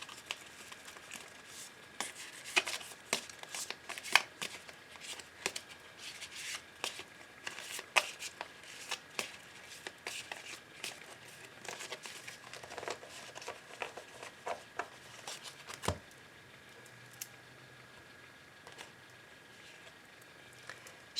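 A deck of oracle cards is shuffled for a reading, with soft, rapid papery riffles and taps repeating steadily for about twenty seconds, close and quiet.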